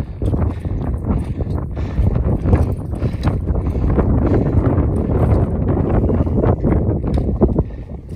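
Strong wind buffeting the microphone while climbing Ute Peak, a loud, continuous gusting roar with no talking.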